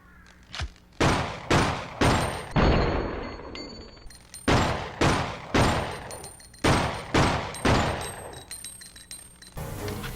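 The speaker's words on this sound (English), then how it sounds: "it has a different firing sound than the regular handgun" A handgun called the SG firing in a zombie video game, about a dozen sharp, loud shots in irregular bursts, each with a short decaying tail, no talking.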